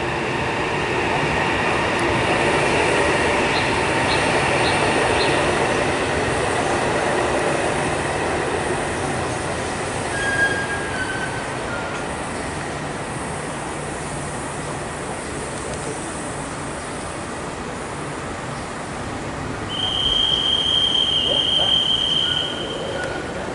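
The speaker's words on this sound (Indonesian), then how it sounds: "CIT udah meluncur dari stasiun Tegaluar menuju stasiun Halim." A Whoosh high-speed rail CIT inspection train pulls away from Tegaluar station, a steady rolling rumble with faint high squeals and tones, growing louder again near the end, with a person talking at times.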